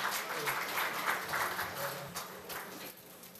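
Audience applause at a Korean labor culture award ceremony as an academic award winner comes up to the stage, a steady wash of many hands clapping throughout.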